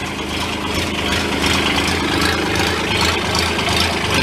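A Bobcat UTV engine idles with no muffler, a loud, steady, raw low rumble that runs unbroken for several seconds with no talk over it.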